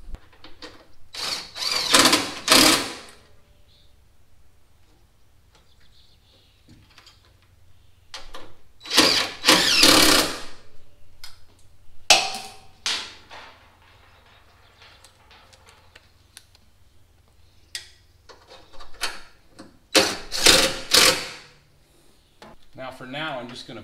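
Bolts being snugged down on an LS6 engine valley cover, with short bursts of ratchet clicking separated by quiet pauses and occasional talk.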